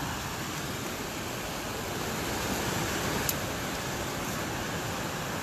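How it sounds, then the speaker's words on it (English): Rushing water beside a hiking trail after rain, a steady, unbroken broadband hiss that stays even and fairly loud throughout, with no voices. "this lovely sound of rushing water"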